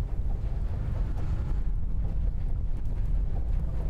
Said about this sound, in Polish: nie ma co przegrzewać silnika generalnie w sumie. Nie ma co dawać więcej gazu.